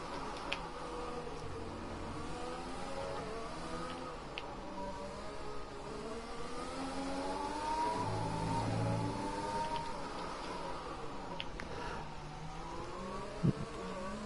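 Race car engine in a PS4 driving game, droning and buzzing as it short shifts up through the gears to sixth, with rising and falling pitch sweeps at a steady moderate level and no talk.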